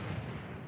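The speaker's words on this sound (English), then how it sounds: "Oh! Fireworks." Fireworks going off in the video game The Division 2: a dense, continuous rumble of booming bursts with heavy low-end, steady and loud across the whole moment.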